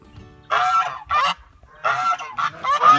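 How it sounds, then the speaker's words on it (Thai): Geese honking on a small farm with goslings and chicks, a few loud, close bursts of honking separated by short pauses, with no talking. "เป็นห่านน่าจะตัวเทาสองตัวนี้น่าจะตัวผู้นะครับ"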